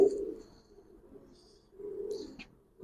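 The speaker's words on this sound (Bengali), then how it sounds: "এটা একটা মাদি কবুতর" A female pigeon in a loft gives a couple of soft, low coos, close but faint, with short quiet gaps between calls.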